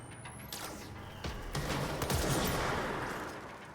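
Gunfire in the video game Control, a loud, sustained burst of rapid shots building up and then tailing off.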